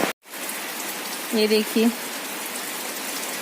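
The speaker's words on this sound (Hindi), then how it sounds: "और बारिश हो रही है, दिखाती हूँ।" Heavy rain falls steadily with a dense, even hiss throughout, and someone speaks briefly over the downpour partway through.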